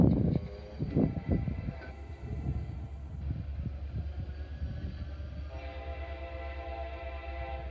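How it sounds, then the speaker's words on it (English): Eastbound Norfolk Southern and BNSF freight train led by two locomotives approaching at Oak Harbor, Ohio, with a low steady rumble and rolling rail noise building in the background, louder thumps early on, no voices. "we have a eastbound coming up here"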